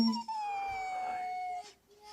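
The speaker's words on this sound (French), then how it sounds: "il se fait réveiller en pleine nuit par son chien qui semble être effrayé et qui pleure" A frightened dog wakes in the middle of the night and gives a single drawn-out, high, falling whine or howl, loud and near, that lasts about a second and a half before fading.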